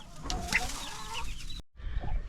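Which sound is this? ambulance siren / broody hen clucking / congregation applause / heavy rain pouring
broody hen clucking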